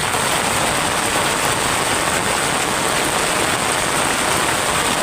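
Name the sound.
heavy rain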